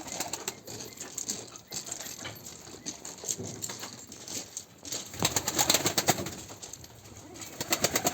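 Mosul pigeons coo softly amid rustling and light pattering, with occasional wing flutters; a quiet, close, continuous birdy murmur with no talking.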